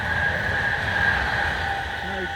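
An express train passes near a canal towpath between Cinderbarrow and Kendal in Cumbria, a steady mid-distance rumble with a sustained tonal whine, heard alone for a few seconds.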